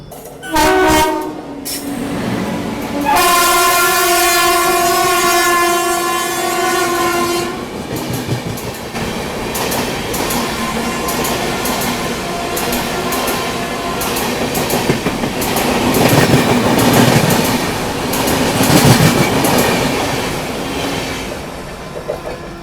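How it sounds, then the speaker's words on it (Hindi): The Gatimaan Express passes slowly, opening with a loud, long horn blast, then a steady heavy rumble and clatter of wheels on rails close by, swelling again toward the end. "गतिमान भी काफ़ी स्लो आ रही है"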